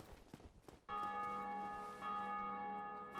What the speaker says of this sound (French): la cloche sonne à chaque fois qu'un autre joueur la fait sonner dans une autre partie